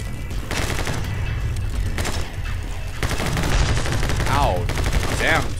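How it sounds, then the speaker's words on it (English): Rapid shooting in the game My Friend Pedro, dense overlapping gunshots that include shotgun blasts and run loud and continuous throughout, with a player's voice and game sounds on top. "Talk about a shotgun to the face."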